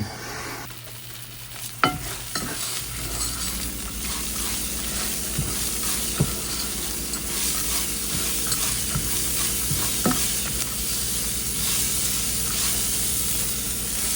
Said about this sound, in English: starting to sizzle. I don't know if you can hear it.